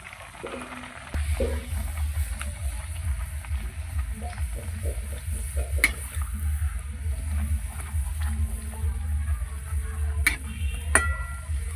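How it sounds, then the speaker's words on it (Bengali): Luchi, a puffed bread, frying in hot oil in a kadai, giving a steady loud sizzle throughout with faint clinks of a utensil; a person speaks now and then. "এবার আমি ভেজে নেব এক এক করে এই যে জাদু লুচি চলে গেল তেলে"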